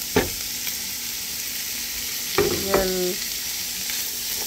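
Vegetables and eggs sizzling in a frying pan, with tomato and garlic among them, a steady hiss broken by a few sharp clatters of a spoon against the pan.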